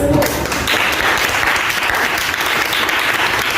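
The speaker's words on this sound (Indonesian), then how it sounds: "Kepada kelompok 1, berikan aplaus" A classroom of students at an Islamic junior high school applauds a presenting group, a dense, steady clatter of many hands clapping close by, with faint voices underneath.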